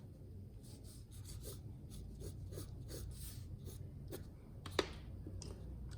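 5B pencil shading on paper for a drawing of glass, faint repeated scratchy rubbing strokes in a quick uneven rhythm, close and quiet, with no voices.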